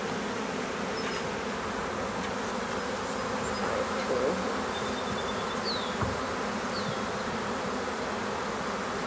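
Dense, steady buzzing of a honeybee swarm in a swarm box fills the whole stretch, continuous and close, with a few brief higher whines of individual bees passing.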